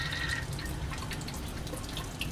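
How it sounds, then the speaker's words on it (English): Cold water running steadily from a faucet in a lab setting for condenser cooling, a continuous moderate splashing flow with faint dripping. "So we're going to turn that back on so we actually have cold water flowing"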